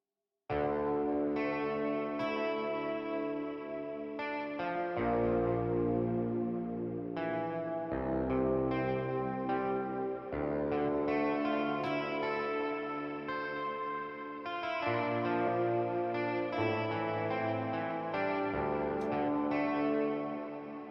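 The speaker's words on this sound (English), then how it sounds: "we can hear that there's still a lot of effects going on and reverb stuff" Sustained synthesizer chords with heavy effects and reverb, notes shifting every few seconds and washing into long echoing tails, no voices.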